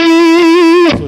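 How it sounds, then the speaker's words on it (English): Electric guitar through a Kemper Profiling Amp with the hard shaper effect, one sustained note with a buzzing, harmonically rich distortion that ends in an abrupt, noisy cutoff, loud and alone. "Hard shaper."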